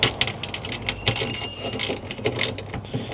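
Ratchet wrench tightening the bolts of a VXR spoiler on a Vauxhall Corsa D, bursts of quick clicking pawl sounds close up, starting and stopping at an uneven pace.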